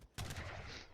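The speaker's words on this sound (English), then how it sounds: "Got a nice volley off right there." A musket volley in Age of Empires III cracks out as a sudden loud burst of several near-simultaneous shots, followed by a short rumbling decay.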